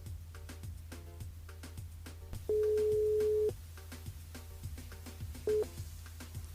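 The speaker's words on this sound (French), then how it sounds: "On appelle Lauriane du côté de Saint-Paul." Telephone tones sound while a radio show calls a listener: a rhythmic series of short beeps, then a long steady tone and a brief second one, under quiet background music.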